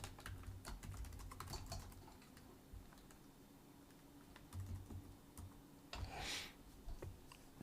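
Rapid keystrokes on a computer keyboard during a live C++ coding session, a steady run of close, crisp clicks with brief pauses and a few heavier key presses, over faint room hum and no talking.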